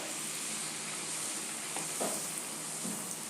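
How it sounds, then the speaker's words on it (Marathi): Bhatura fries in hot oil with a steady, dense sizzle that holds throughout, close by and moderately loud, with no talking. "तेल चांगलं गरम झाल्यावरच घाला, म्हणजे छान फुगतात."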